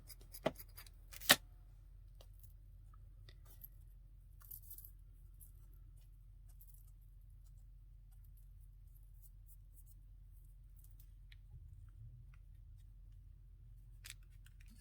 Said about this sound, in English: I'm just gonna cut that in